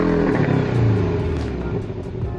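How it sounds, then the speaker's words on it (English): A Porsche Cayman's turbocharged 2-liter flat-four engine revs in a low, gravelly drone, loud and close at first, then easing slightly as the rev settles over a couple of seconds. "Porsche hands you a turbocharged 2-liter flat 4. It doesn't even sound like a sports car."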